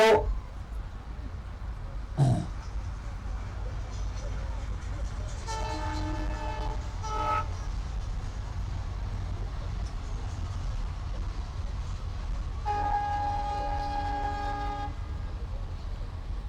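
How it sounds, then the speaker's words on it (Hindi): A train passes in the distance, with long harmonic horn blasts sounding twice over a continuous low rumble of the moving cars. "ये जो ट्रेन है यहाँ पर जाती है रोज, ऐसे आती है फिर ऐसे आती है"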